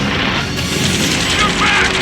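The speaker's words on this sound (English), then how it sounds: "Taking fire! We're pinned down!" Heavy, continuous gunfire and booming blasts fill a battle in Ace Combat 7, a dense roaring wall of shots and explosions with a voice shouting over it.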